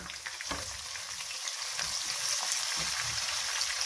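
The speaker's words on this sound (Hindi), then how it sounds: "और देखिए प्याज गोल्डन हो रहे हैं।" Sliced onion frying until golden in a pan for karhi pakora, a soft sizzle with scattered crackles and pops throughout, with no voices.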